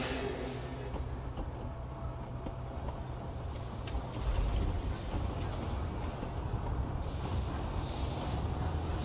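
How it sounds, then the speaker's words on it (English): A train rolling toward a city in the railway-building game Railgrade, a steady broadband rumble and hiss of rail travel that swells slightly midway and holds at an even level throughout, with no voices. "It's always good to see how the train approaches the city."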